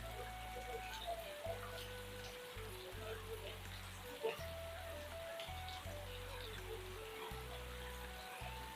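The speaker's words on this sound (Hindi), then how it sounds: "इस समय देखिए आप, बारिश काफ़ी तेज़ आ चुकी है।" Steady heavy rain hissing and pattering across surfaces in the mountains, with a low rumbling hum underneath and a brief louder splash midway.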